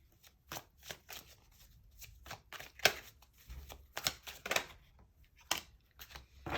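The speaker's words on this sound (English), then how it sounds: "Let me pull out some more cards." Tarot cards being shuffled and drawn from the deck: a series of short, crisp riffling bursts and flicks, close and clear, with brief pauses between them and no talk.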